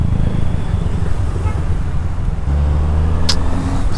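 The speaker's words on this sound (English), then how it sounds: "Okay, modified exhaust." A 2021 Honda CB650R motorcycle with a modified aftermarket exhaust runs close by on a road, a loud steady low engine drone with a brief higher blip near the end, set against traffic noise and no talking.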